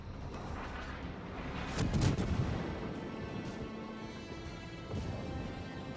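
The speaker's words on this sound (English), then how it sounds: "let's drop some fire on this cruiser" Mogami cruiser's 155mm guns fire at an enemy cruiser in World of Warships, a heavy rumbling salvo swelling near the two-second mark over continuous battle noise, with a smaller boom near the end.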